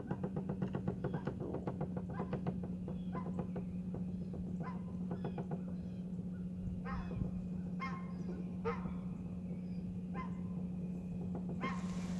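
Geese honk repeatedly in a loose, irregular chorus at a moderate distance at a fishing spot, over a steady low hum.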